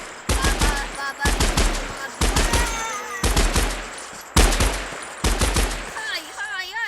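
Gunfire in the Minecraft video game, heard as repeated bursts of rapid automatic shots in a loud, regular rhythm, with short gaps between bursts and a brief higher, wavering sound near the end.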